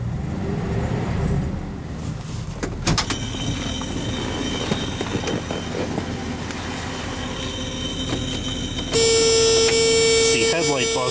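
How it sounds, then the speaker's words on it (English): Headlight warning buzzer in a 1971 Dodge Coronet, a steady electric tone that switches on near the end, over engine and road rumble with faint talk earlier. "headlight buzzer"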